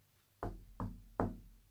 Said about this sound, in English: Okay, Spirit, I'm going to knock.